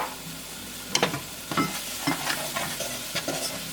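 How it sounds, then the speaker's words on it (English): A spoon stirring garlic and black pepper into homemade marinara sauce in a hot pan, with a steady low sizzle and a few distinct scraping strokes against the pan, close and unaccompanied by talk. "Let me get this stirring in here."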